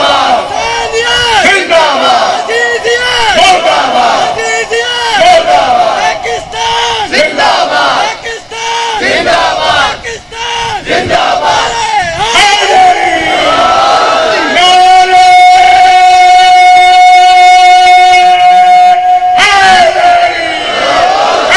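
A large crowd at a religious majlis gathering shouts slogans back in unison, with loud rhythmic call-and-response bursts of massed voices, followed by a sustained amplified voice holding a long chanted tone over the hall.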